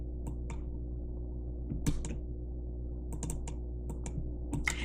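Computer keyboard keys clicking as someone types, with short irregular bursts of taps set against a steady low electrical hum. No one speaks.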